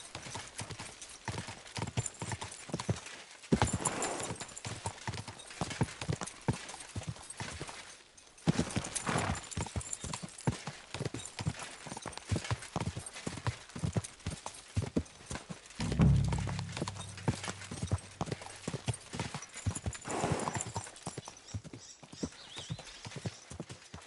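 Horse hooves in the video game Kingdom Come: Deliverance 2, a long run of rhythmic clip-clop footfalls close by, with a couple of brief pauses and a neigh near the middle.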